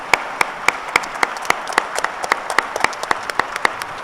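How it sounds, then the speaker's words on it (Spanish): Loud, steady applause from an audience honoring the members of a policy panel on national legislative harmonization, with sharp individual claps repeating rapidly across the whole stretch and no talk over it. "pedirles un muy fuerte aplauso para todos los que me acompañaron en esta mesa"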